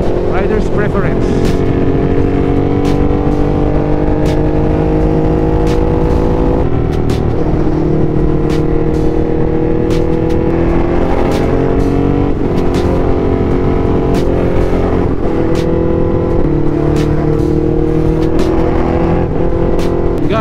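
Ducati Scrambler motorcycle idling and blipping its exhaust during a community ride, a loud, continuous rumbling engine with repeated rising revs, heard close up, with people talking over it.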